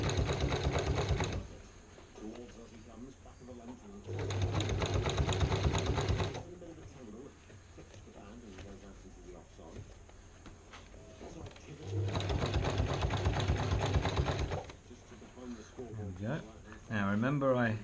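A sewing machine stitching in several fast, rattling runs of a few seconds each, separated by pauses. A person talks quietly between the bursts.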